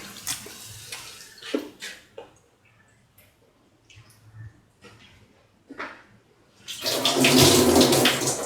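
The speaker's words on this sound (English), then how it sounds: "Now put in the soaked and washed rice" Soaked, washed rice tipped into a pot of water, giving scattered close splashes and trickles followed by a louder, sustained rush of pouring near the end, with no voices.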